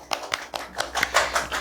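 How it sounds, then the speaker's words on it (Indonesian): A small group of people claps at an Indonesian religious affairs office event, a quick, uneven patter of handclaps lasting under two seconds with no talking. "Boleh tepuk tangan dulu dong."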